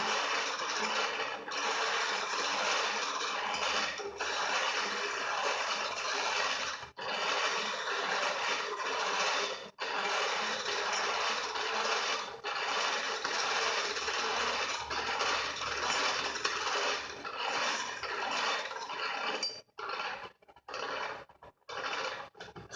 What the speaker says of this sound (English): I crank with one hand, put the chisel up there with the other